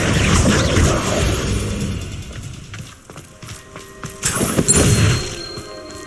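Confringo blasting spell cast in Hogwarts Legacy, heard as loud broadband crashing bursts, one near the start and another after a quieter stretch, with rumbling debris between them.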